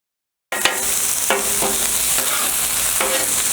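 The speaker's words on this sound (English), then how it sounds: "We're just going to mix up the veggies a little bit." Vegetables fry on a flat top griddle with a loud constant sizzle, while a spatula scrapes and taps the metal surface several times at close range.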